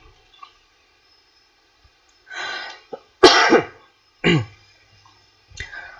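A podcast host coughs several times in short, sharp bursts separated by silence, close to the microphone, with one louder, harsher cough in the middle.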